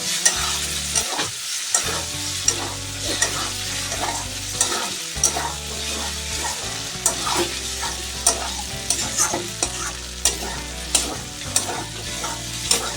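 Masala with bay leaves stir-fried in a pan, rhythmic spatula scrapes and knocks over a continuous sizzle, with a steady low hum underneath and no speech.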